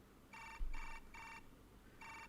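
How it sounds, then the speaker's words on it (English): Smartphone ringtone from the Chaos;Child video game, four short bright bursts of repeating electronic ringing separated by brief gaps, fairly close and clear with no talk over it. "Sounds from my new smartphone."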